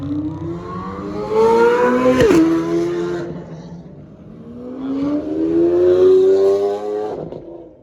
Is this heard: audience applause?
no